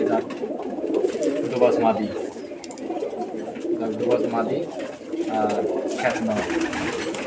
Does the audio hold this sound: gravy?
no